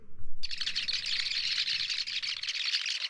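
Sociable weavers give sharp, harsh alarm calls at a pygmy falcon, a sudden burst of loud, rapid, continuous scolding chirps that starts abruptly and holds steady to the end.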